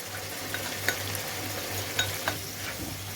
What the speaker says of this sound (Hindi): यहाँ पे चिकन कुक हो रहा है